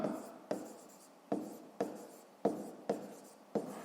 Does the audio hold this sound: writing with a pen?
yes